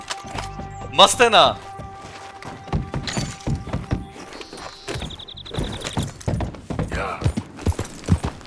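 Horse hooves in Red Dead Redemption 2, a series of clopping thuds as a horse arrives, mixed with a whinny, game effects and someone talking over them.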